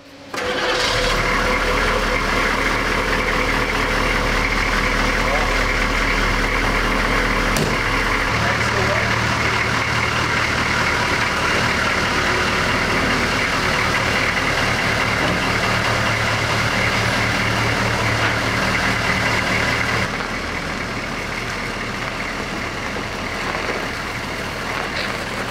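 US military Humvee engine running on the road, a loud steady rumbling drone with a shift in tone partway through, a voice speaking over it.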